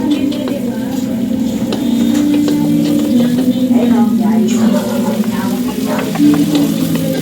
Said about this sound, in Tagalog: Ginisa ko nga pala yan sa luya at saka kamatis, bawang at sibuyas para pampawala ng lansa.